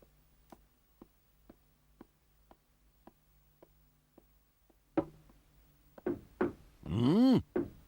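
A series of evenly spaced knocks on a door sounds over a low hum in a cartoon, followed by louder thuds and a rising, wavering tone toward the end.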